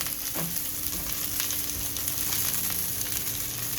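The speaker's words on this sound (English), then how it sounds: "it is time to toss our beef and pork burgers on" Beef and pork burger patties hitting a hot cooking surface give a steady, close sizzle with a brief thump as they land, hissing evenly with no talk.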